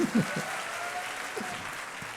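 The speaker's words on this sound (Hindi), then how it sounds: "तो ICR एक बार पोदार सर की ताली तो बजना चाहिए भाई।" An audience claps for Podar sir during a director's induction session at CIMAGE. The applause is fairly quiet and steady over the whole span, with a few low thumps early on.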